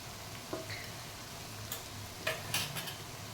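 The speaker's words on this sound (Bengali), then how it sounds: "মশলাটাকে আমি ভালো করে কষিয়ে নেব।" A spice paste of ginger paste, cumin paste, chili powder and turmeric fries in a pan for a rohu fish-head muri ghonto, giving a soft, steady sizzle broken by a few light clicks of stirring. No one talks.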